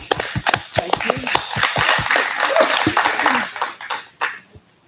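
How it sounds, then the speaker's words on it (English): A brief round of clapping rises from a group at a school district board meeting honouring high school students, with sharp individual claps at first, then blending together before tapering off. "Let's give you a round of applause"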